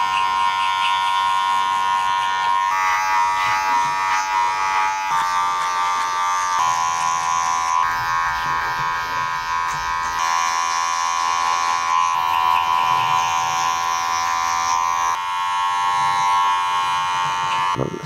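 Electric hair clippers with a one-and-a-half guard and the lever slightly open cut through hair on the back of the head during a skin fade, giving a loud, steady close buzz that runs unbroken with no talking.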